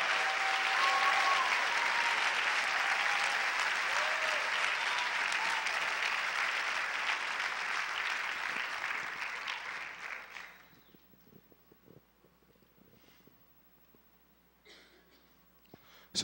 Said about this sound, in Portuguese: Quando a gente aplaude a Jesus, a gente sempre tem que aplaudir com o nosso melhor.